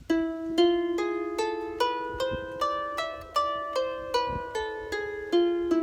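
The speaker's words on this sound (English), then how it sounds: "she discovered what the scale was, and it sounds like this" A Hebrew cantillation scale plays as a dozen evenly spaced, ringing tones with a distinctly Middle Eastern character, each note decaying before the next.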